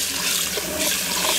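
Rice is washed in water, a brief, close, continuous rush and slosh of water with no voices.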